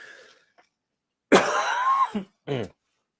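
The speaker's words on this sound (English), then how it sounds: "Sorry again for all the coughing." A harsh, throaty cough followed by a short second cough after a brief pause, loud and close, with near silence around it.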